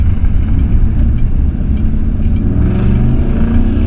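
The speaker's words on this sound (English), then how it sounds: "that truck sounds good" A truck engine revs in a loud, close, steady low rumble that holds for about four seconds, with a slight rise in pitch toward the end.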